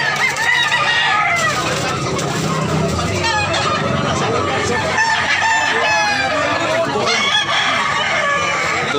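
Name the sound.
rooster crowing at a market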